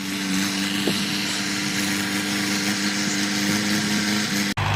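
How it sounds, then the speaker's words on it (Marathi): Tractor engine running steadily while ploughing a field, one of two tractors working it, a constant droning hum heard from a moderate distance with no talk, cut off by a brief dropout near the end. "एक सोडून दोन दोन ट्रॅक्टर आहे त्याच्यामुळं काम पण पटपट होऊ राहिलेलं आहे"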